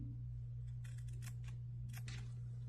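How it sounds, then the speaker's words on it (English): Fabric scissors trim the seam allowance on a skirt waistband with several quick, quiet snips in two short bursts over a steady low background hum. "now I will trim my seam allowance in half, right, and I will trim over here too"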